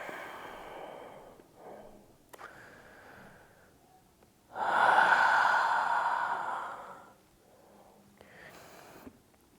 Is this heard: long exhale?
yes